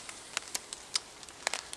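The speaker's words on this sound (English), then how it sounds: "sounds like it's raining, but it's actually mist" Mist dripping through the bush on a foggy morning gives sparse, faint, irregular pattering drops that sound like light rain, heard up close in quiet surroundings.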